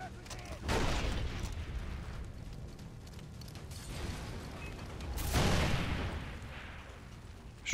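Loud bursts of Far Cry 3 gunfire, grenades and booming explosions during an outpost fight, with sharp blasts near the start and around the five-second mark over a rumbling background.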